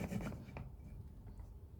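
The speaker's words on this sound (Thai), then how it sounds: "ทำการเลื่อยอันนี้ออก" A short burst of rough rasping as a metal hacksaw scrapes across a hard suitcase wheel part, a couple of quick strokes fading to quiet scraping.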